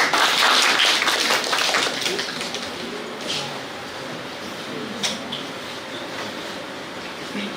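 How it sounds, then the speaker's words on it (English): An audience applauds to welcome a professor at a neuroscience meeting at IIT (BHU) Varanasi. The clapping starts fairly loud, thins out after about two seconds and trails off into scattered claps and room noise. "Please join me in warmly welcoming Professor S.P."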